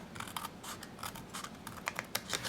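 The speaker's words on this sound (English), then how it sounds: "take some scissors, and I'm going to cut at an angle into this corner where the 2 score lines cross" Scissors making angled cuts into a paper tag corner where two score lines cross, a quiet series of short irregular snips and crisp clicks close by.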